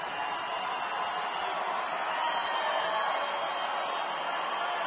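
A baseball crowd stands and cheers with two strikes on the batter, a steady, broad roar of many voices that holds without letting up.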